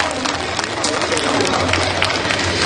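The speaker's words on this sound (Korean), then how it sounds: "박수 다시 한번 주세요" Concert audience at a family concert during a traditional charcoal-grill festival applauding and cheering steadily, a dense wash of clapping sustained for the whole stretch.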